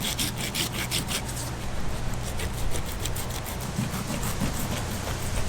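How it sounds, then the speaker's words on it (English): A serrated knife saws back and forth through abrasive shark skin and tough meat, giving a continuous rough rasping and rubbing, close and fairly loud, with faint rhythmic strokes and no talk. "And I'm using a serrated knife."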